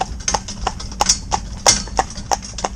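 An older cob horse walking, its hooves clip-clopping in a steady, even rhythm of sharp, close knocks, with a faint low background and no clear talk.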